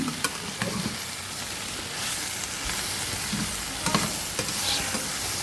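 Turmeric powder being stirred into a masala curry base frying in a pan, with steady sizzling and a few sharp spoon scrapes and clicks against the pan, close and unaccompanied by talk.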